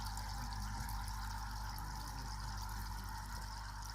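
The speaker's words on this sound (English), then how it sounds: "the bubbles are a lot more vigorous right now" A Zacro 2.5W aquarium air pump pushes air through an air stone in a fish tank, making a continuous dense fizzing rush of vigorous bubbles at an even level with no break.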